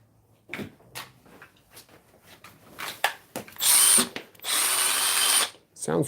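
Milwaukee M12 Surge impact driver running in short bursts: a few quiet clicks and handling noises, then two loud sustained whirring runs with a high whine, close to the listener, with faint voices earlier.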